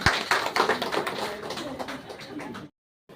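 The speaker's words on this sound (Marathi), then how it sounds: "आपण त्या दोन्ही नवीन दाम्पत्याचं सर्वांनी टाळ्या वाजवून स्वागत करायचं" Crowd applause welcoming two newlywed couples at a Shri Mahalakshmi village fair, a dense burst of many hands clapping together that fades off and then cuts to silence.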